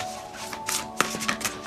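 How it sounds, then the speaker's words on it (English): Tarot cards being shuffled by hand in a short burst of quick riffling and soft slaps, close and fairly clear, with no talking. "they really are always very free shuffling for me"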